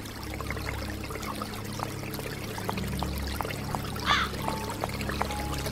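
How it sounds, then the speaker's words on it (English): Constant thin trickle of water flowing out in the Runaway 3: A Twist of Fate adventure game, a steady soft pour over a low background hum, with one brief chirp near the end. "A constant flow of water is trickling out."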